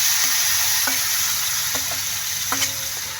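Chopped banana heart goes into a pan already cooking fish, giving a steady, close sizzle broken by a few light clinks of stirring.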